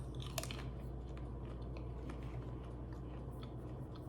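Low carb tortilla chip being bitten and chewed, a faint, close crunching texture under a steady low background hum, with a sharper bite near the start.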